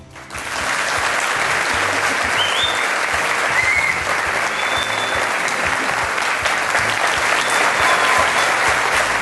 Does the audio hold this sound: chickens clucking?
no